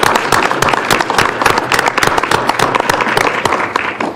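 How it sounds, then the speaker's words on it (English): A meeting audience at a county commissioners' business session breaks into applause, with dense, steady clapping from many hands filling the room for several seconds. "If we could all just take a second and please give her a round of applause."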